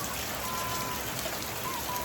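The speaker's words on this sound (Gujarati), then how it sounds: "વરસાદ ચાલુ સારો છે," Steady rain falling in Bhavnagar, an even, continuous hiss of drops on surfaces and runoff from roof edges, constant throughout with no talking.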